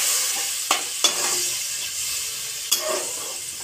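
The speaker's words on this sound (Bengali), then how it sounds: "2 বাটি আমি জল দিয়ে দেবো।" Water poured into a simmering pot of lentil dal or fish curry, a steady bright sizzling hiss broken by a few sharp clinks and splashes, close and clear with no talk.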